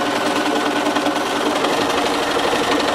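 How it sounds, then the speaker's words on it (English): Sewing machine stitching free-motion lace, a steady, fast continuous whir of the needle mechanism running close and loud without pause, with no talking. "just put your foot down and keep sewing"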